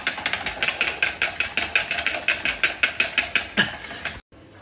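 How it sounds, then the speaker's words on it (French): Egg whites are beaten by hand with a whisk in a bowl: quick, even strokes, roughly five per second, tap sharply and close up, then stop abruptly just before the end. "On ajoute au fur et à mesure le sucre en même temps qu'on continue à battre ces blancs en neige."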